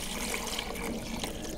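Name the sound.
water poured into a Vevor ice maker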